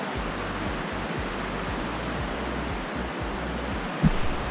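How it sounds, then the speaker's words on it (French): Mountain waterfall on an alpine trail, a steady, full roar of rushing water close by that runs unbroken throughout, with a brief knock near the end. "Ah, belle cascade."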